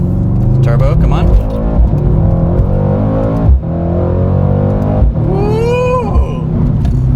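A Mercedes AMG C63 in Sport Plus mode accelerates hard with a loud, rumbling engine note that climbs through revs and then shifts. Excited voices and shouts are heard over the engine.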